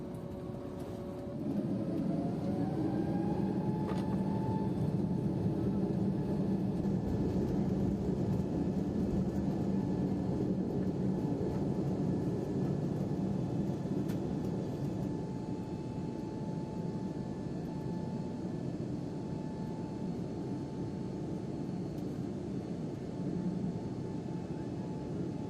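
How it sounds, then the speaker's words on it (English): An ITA Airways Airbus A321neo taxis toward the runway at Rome Fiumicino, heard from inside the cabin as a steady, loud engine drone with a rising whine near the start, continuous and unbroken, with no talking. "We then started taxiing for runway 25."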